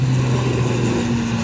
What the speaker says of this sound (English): Looks like this plane's taking off.